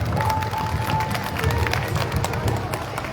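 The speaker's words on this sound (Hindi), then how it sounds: "जोरदार ताली बजाकर अभिनंदन व स्वागत।" An audience at a Ram Lila event claps to welcome guests onto the stage, a sustained crowd applause with steady rapid clapping and a murmur of voices mixed in.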